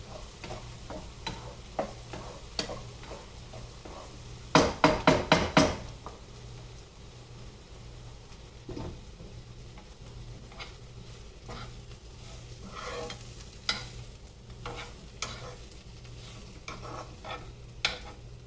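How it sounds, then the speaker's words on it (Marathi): Onion frying in a pan for a chicken curry is stirred with scattered scrapes and taps, including a quick rattling cluster of knocks partway through, over a faint sizzle and low hum. "इथे पण हळूच आपला कांदा हा ढवळून बघायचा, नाहीतर मग हा जळण्याची शक्यता असते"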